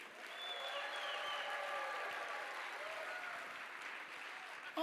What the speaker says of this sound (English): and now that you're in the clapping mood